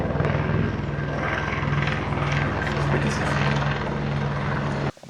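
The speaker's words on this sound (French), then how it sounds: "Là, il y a un hélico." A helicopter flies overhead on an Australian road trip, its steady rotor thump and turbine whine loud and continuous before cutting off abruptly near the end.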